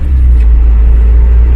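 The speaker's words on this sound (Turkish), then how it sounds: "motor sesi mükemmel ya" A Tofaş Kartal car engine idling steadily with a deep, constant rumble, close and loud, no voices.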